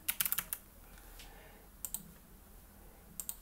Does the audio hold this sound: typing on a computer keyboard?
yes